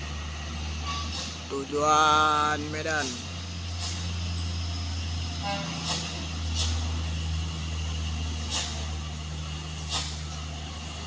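A heavy Fuso truck idles and rumbles nearby in heavy rain on a steep climb, with a rising horn-like tone early on and someone speaking briefly over the engine.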